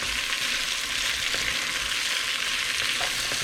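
Andouille sausage slices, cut about an eighth to a quarter inch thick, sizzle steadily in a pan for chicken and sausage gumbo, with faint scraping as they are stirred, close and continuous with no talking.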